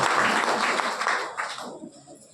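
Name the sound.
applause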